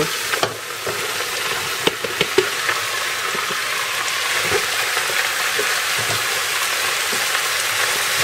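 Button mushrooms drop into butter in a frying pan and sizzle steadily at close range, a constant hiss with a few sharp crackles and spits near the start.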